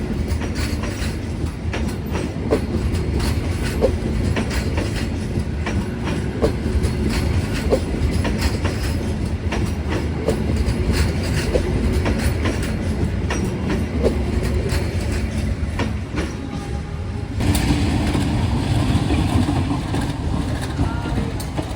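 The Pangandaran panoramic passenger train rolls along rails with steady rumbling and rhythmic clickety-clack of wheels, heard from inside the carriage, continuous and fairly loud with a brief shift in tone near the end.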